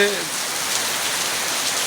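Heavy morning rain pours down steadily in a flood-hit area of Bangladesh, a dense, even hiss of drops hitting surfaces up close. It holds at the same loud level throughout, with no voices.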